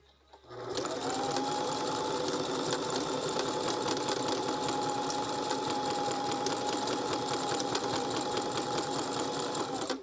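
A sewing machine stitches a tight zigzag end stitch, starting abruptly and running as a continuous, steady mechanical whir with a fast rattling pulse for about nine seconds.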